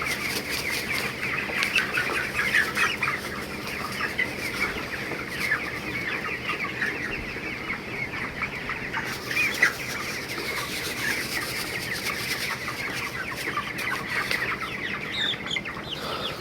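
Farm poultry flock clucking steadily throughout, a dense continuous chorus of many birds with occasional louder squawks and wing flaps, no talk.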